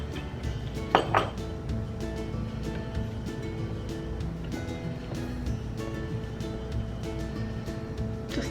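Yarrow is stirred into cold-process soap batter in a container, with a utensil clinking and scraping against the sides in a steady, continuous rhythm at close range.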